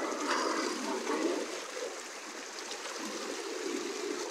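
Water in a mountain stream rushes and gurgles in a steady, even wash along a road trip from Karachi to Quetta, moderately loud and continuous, with no talk over it.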